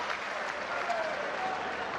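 Arena crowd applauding boxer Malik Scott after his bout with Dereck Chisora, a steady, moderately distant wash of clapping that runs without a break.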